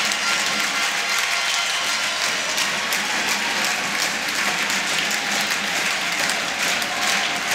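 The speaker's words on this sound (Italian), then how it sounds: "Si fanno sentire i tifosi dello Scauri tutti in piedi a incitare i propri ragazzi." Scauri basketball fans on their feet cheering and clapping for their team, a dense, continuous roar of applause and crowd noise that stays loud from start to finish.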